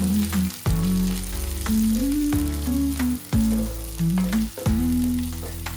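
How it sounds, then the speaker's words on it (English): Onion and capsicum cubes sautéing in a hot pan for chicken Manchurian, a steady close sizzle with stirring scrapes, interrupted by several brief dips, with no talk. "Then add cubes of onions and capsicum and saute for another minute."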